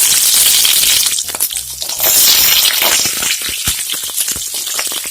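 Shallots sizzling in hot oil in a pan while cooking Palakkad-style chundanga puli, a loud, close, steady frying hiss with crackling pops throughout.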